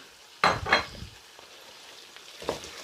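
Halved green chillies dropped into hot oil, a sharp sizzle bursting up then settling, with a quieter second flare as they are stirred, no voices.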